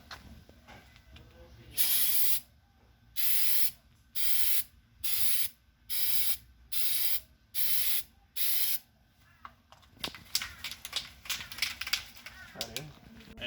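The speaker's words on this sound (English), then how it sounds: "Before you spray it directly on the bar, you just want to do a couple test sprays." Short bursts of aerosol spray paint, about eight evenly spaced hisses of roughly a second each, test-sprayed before refinishing a Nissan Pathfinder bull bar, followed by rustling and handling noise.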